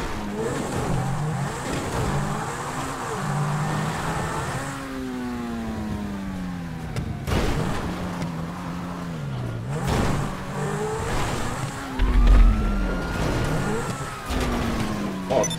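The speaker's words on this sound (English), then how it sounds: "I said it was an off-road vehicle, didn't I?" Off-road vehicle engine in Grand Theft Auto V Online: close, loud revving that climbs through repeated pitch sweeps as the vehicle accelerates and shifts, with a few thumps partway through.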